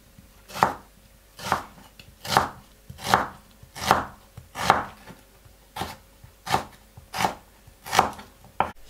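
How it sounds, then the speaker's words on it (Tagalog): An onion being sliced with a very sharp kitchen knife on a cutting board: about eleven crisp, evenly spaced chops, close and clear, each a short thud with a crunchy snap, with no talking. "Hiwa tayo ng onion."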